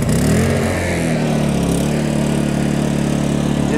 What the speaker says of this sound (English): Turn the generator on, hit the choke, and pull the handle.